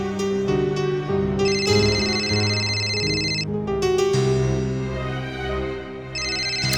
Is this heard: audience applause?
no